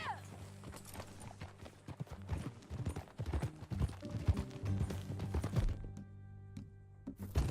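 Horse hooves clop in a brisk, uneven trot in the video game Red Dead Redemption 2, close and clear, with a voice speaking briefly over the rhythm.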